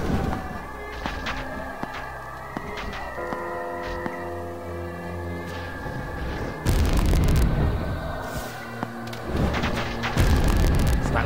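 Loud booming blasts erupt amid busy game noise in American McGee's Alice, with heavy bursts around the middle and again near the end.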